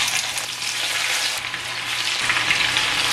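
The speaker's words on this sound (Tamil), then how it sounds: "இப்போ நாங்கள் பொரிச்செடுப்போம்" Bitter gourd pieces deep-frying in hot oil until crisp for a Sri Lankan sambal, an unbroken close, loud bubbling sizzle with a fine crackle.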